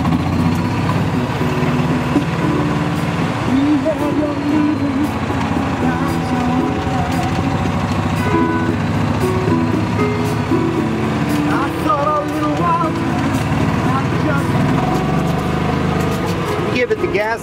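A gas-powered EZ Go Express S4 four-seat golf cart engine drones steadily and rises in pitch as it revs, running the whole time beneath people talking nearby.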